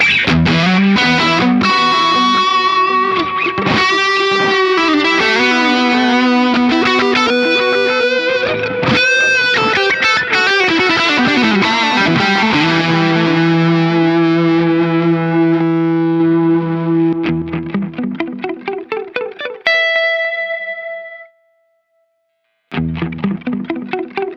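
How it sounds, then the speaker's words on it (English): Electric guitar through a pedalboard with an El Capistan tape delay switched on, loud sustained chords and lead notes trailing repeating echoes, ending with a brief silence before playing resumes. "Let's also hear the El Capistan, because we have to have all the pedals on."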